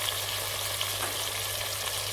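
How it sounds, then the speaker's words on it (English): Prawns, bell pepper and other vegetable pasta ingredients frying in a pan, an even, continuous close sizzle with faint stirring touches and no talking. "You see it all sizzling away."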